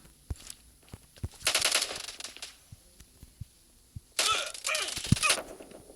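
Gunfire in an online shooter game sounds in two sharp automatic bursts amid scattered single clicks and footstep-like taps, fairly faint overall.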